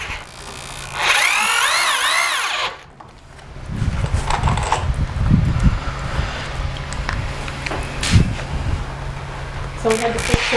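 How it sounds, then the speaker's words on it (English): An old Ryobi power drill, corded rather than battery-powered, whines briefly with wavering pitch while assembling storage shelving, followed by clattering and handling noise with voices in the background. "So we had to switch to a power drill because we didn't have a battery."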